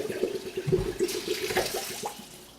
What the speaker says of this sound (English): we need to rinse these one more time before we use them.